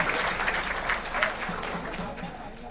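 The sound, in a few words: audience applause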